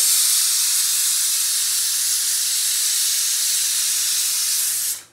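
A pressure cooker cooking mutton releases steam in a loud, steady hiss for about five seconds, then cuts off abruptly.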